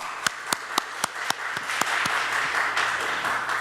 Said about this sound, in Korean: 박수로 한번 환영드리겠습니다.